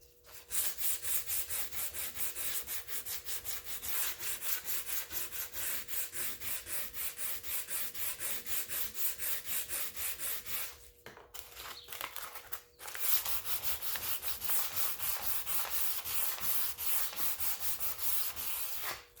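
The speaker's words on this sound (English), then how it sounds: "sometimes there's stuff on there from over the years that needs to be scraped off and get nice and sanded" An oak kitchen cabinet being sanded, giving steady rhythmic scratchy rubbing strokes close up, with a brief pause partway through before the sanding resumes.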